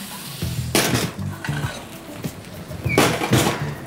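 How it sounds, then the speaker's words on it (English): Yellowtail snapper hitting a very hot sauté pan, with metallic clanks and scrapes of pan and utensil over a faint background sizzle, close and fairly loud in short bursts. "You wanna make sure your saute pan is very hot, and I'm gonna sear the fish on one side"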